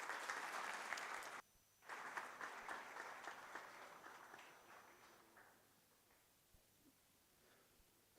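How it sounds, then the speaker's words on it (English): Conference audience at an inauguration session gives a round of applause, dense clapping that breaks off briefly, resumes, then fades away into a quiet room. "So a big round of applause for them."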